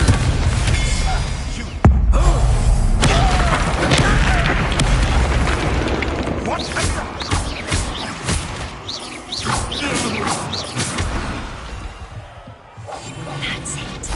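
A Confringo spell from Hogwarts Legacy erupts in a sharp, loud blast at the start, followed by rumbling and scattered crackling effects with faint chirps and some in-game voice through the rest.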